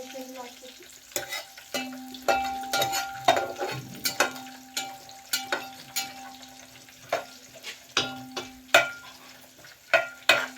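Chicken pieces fry for biryani with a steady sizzle while a utensil stirs and scrapes the pan in regular strokes, close and clear, with no voices.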